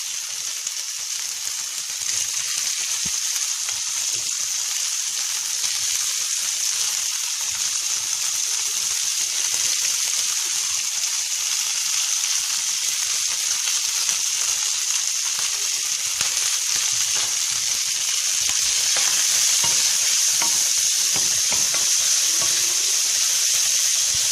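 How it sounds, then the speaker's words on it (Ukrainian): Sausage frying in a pan with a steady, loud sizzle that crackles continuously throughout, close up and without any talk. "ковбаска готова і зараз відправляємо її в сковородку"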